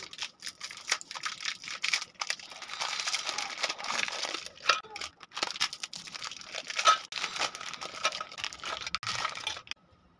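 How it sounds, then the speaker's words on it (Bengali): Crinkly plastic Happy Happy biscuit packets are torn open one after another, a close, busy run of rustling, crackling and ripping that keeps going for about ten seconds, then stops. "এবারে বিস্কুটগুলোর প্যাকেট থেকে খুলে নেব।"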